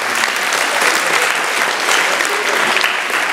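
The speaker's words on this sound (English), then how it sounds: "Let's give Mariah and Joshua a round of applause." A leadership seminar audience breaks into steady, dense applause, a continuous loud wash of many hands clapping at once that holds evenly throughout without pause.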